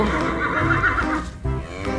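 A zebra gives a loud, close, horse-like neigh lasting about two seconds, a wavering whinny with a brief dip before a final lower push.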